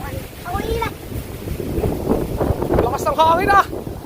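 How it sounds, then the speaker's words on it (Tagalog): Strong wind buffets the microphone with a steady roar at an outdoor kite-flying gathering while excited voices shout and call out over it. "Lakas ng hangin ah! Grabe!"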